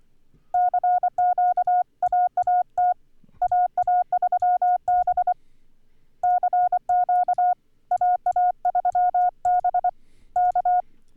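A Morse code CW radio signal calling CQ: a clean, steady single-pitch tone keyed in rapid dots and dashes, sent in several grouped bursts with short pauses between them, loud and alone with no talking.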